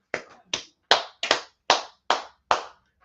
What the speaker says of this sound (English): Clap it up for class, right?